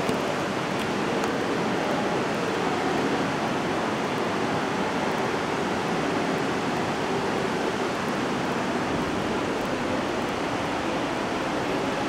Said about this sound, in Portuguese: Aqui a gente vê a água escorrendo mesmo